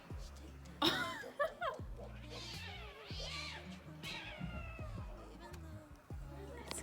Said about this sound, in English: Right there, that black thing right there is a cat.